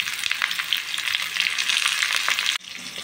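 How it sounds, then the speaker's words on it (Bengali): Potato and pointed gourd pieces fry in oil in a kadai wok with a little salt, a loud steady crackling sizzle that suddenly drops lower near the end. "এদিকে মাছ ভাজছি আর এদিকে অন্য একটা কড়াইতে আমি আলু আর পটলগুলি ভেজে"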